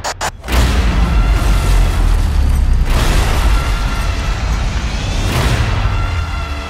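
Explosion in a trailer for the submarine film Hunter Killer, following a torpedo launch: a loud, deep boom that rolls on as a sustained heavy rumble, with further swells of blast noise.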